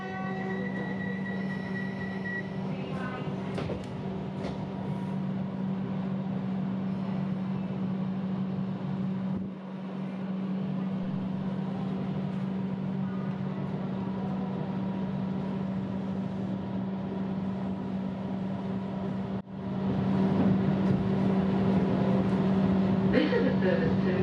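A steady rumble and hum inside a moving Comeng suburban electric train, with a constant low drone and a faint whine, continuing at an even level throughout.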